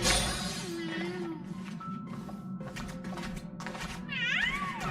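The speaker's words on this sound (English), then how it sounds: "That's a Dr. Ratio Cat." The Dr. Ratio Cat in the video game Honkai: Star Rail meows several times, with clear, rising and falling cries over a soft game background.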